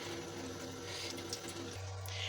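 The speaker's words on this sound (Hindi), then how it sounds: "हाथ की मदद से मैं इसके अंदर से जो भी इसका एक्स्ट्रा पानी है वो सारा हम स्ट्रेन कर देंगे" Water trickling and dripping as mozzarella curd is squeezed by hand to press out the excess whey, a soft steady wet splashing with a low hum underneath.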